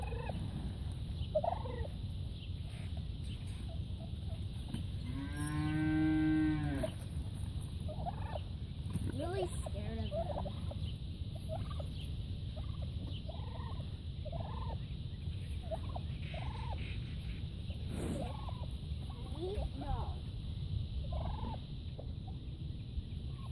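Turkeys fighting and gobbling, with a cow nearby, give a loud rolling gobble a few seconds in, followed by scattered clucks and scuffling calls over steady outdoor background noise.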